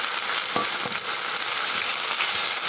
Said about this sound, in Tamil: எண்ணெயிலே நல்லா வெங்காயத்தை நல்லா வதக்கணும்